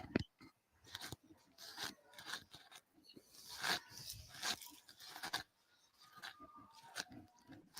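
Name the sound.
person crunching while eating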